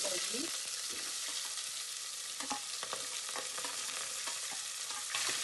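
Onions, curry leaves and cloves fry in hot oil for a soya chunk tomato bath, with a steady bright sizzle and occasional scraping knocks of a stirring spoon against the pan.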